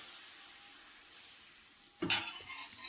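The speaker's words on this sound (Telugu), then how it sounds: "దీన్ని హైలోనే పెట్టి కాల్చుకోండి, బాగా క్రిస్పీగా కాలుతుంది." Rice flour dosa batter sizzles in oil on a hot pan over high heat, a soft steady hiss with a sharper burst of spattering and scraping near the end.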